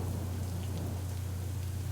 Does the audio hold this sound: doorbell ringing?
no